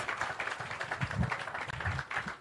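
Audience applauding students at a World Milk Day event held by the Jamaica Dairy Development Board, a steady patter of many hands clapping at moderate distance, fairly soft and continuous with no voices over it.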